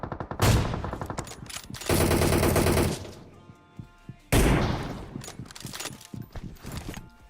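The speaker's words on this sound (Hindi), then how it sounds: "यहाँ से मैं स्नाइपर चला रहा हूँ दूर वाले बंदों पे" Gunfire in the PUBG Mobile battle royale game, loud bursts of rapid automatic fire in two long volleys with scattered single shots between them, close and sharp.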